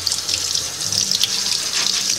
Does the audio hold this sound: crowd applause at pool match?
no